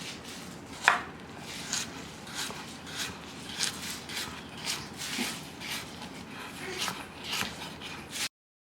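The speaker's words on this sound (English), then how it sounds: "And then we're going to chop these up in half moons, very thinly" A knife taps steadily on a cutting board as vegetables are sliced very thinly into half moons, a run of regular, moderately loud chops roughly every half second, with a louder knock early on.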